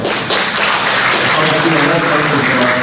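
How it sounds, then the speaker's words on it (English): Applause from a large audience at a security conference talk, a dense, steady wash of clapping that fills the room at full volume throughout, with no voices breaking through. "let's give another applause for you guys"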